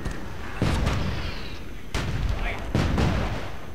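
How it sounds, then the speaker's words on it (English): Mortars fire in the video game Myth 2 as three heavy booming blasts at uneven intervals, each with a rumbling tail, over continuous game ambience. "That was a really good shot, Mr. Mortar."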